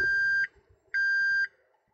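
Two long electronic beeps from the gearbox control unit of a Toyota with an MMT semi-automatic transmission, evenly spaced and fairly loud, with faint mechanical rustle between them.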